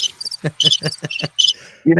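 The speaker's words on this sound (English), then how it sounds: "The crickets are coming on." Evening crickets trill in quick, bright pulse bursts that are close and fairly loud, with a speaking voice coming in over them near the end.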